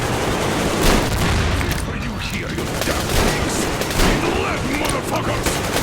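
Firefight in Metro Exodus with rapid overlapping gunshots and booms in a dense, unbroken barrage, a shotgun among the weapons, with shouted voices faintly mixed in.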